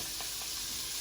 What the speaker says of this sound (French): dans une poêle comme celle-là, on va mettre notre beurre